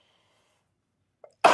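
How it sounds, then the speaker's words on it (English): A single sharp sneeze bursts out after near silence, preceded by a brief faint intake of breath, loud and close, during a live watercolor and stamping session. "Sneezing out of nowhere."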